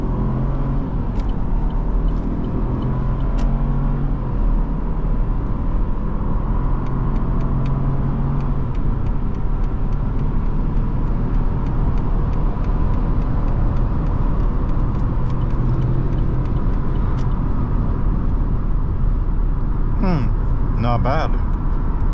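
A 2022 Chevrolet Trailblazer with a three-cylinder engine pulls hard in sport mode, a loud steady engine drone heard from inside the cabin, with a brief voice near the end.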